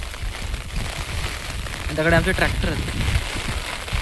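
Steady rain falls outdoors on a farm, a dense constant hiss, as someone speaks briefly over it.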